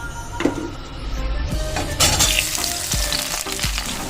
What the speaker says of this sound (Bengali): এবার আমি কড়াইয়ের মধ্যে দিয়ে দেবো টমেটো আর পেঁয়াজ কুচিটা